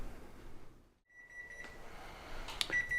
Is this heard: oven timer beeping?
yes